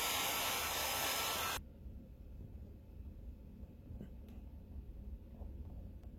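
A heat gun warms a repair on a pearl-white Tesla's paint, giving a loud, steady blowing hiss for about a second and a half before it cuts off, leaving a quiet room.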